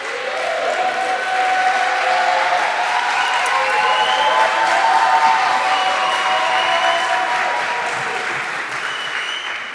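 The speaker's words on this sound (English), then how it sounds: "you can see from the applause" Sustained audience applause at a closing ceremony, steady dense clapping mixed with crowd noise that holds at a loud, even level for the full duration.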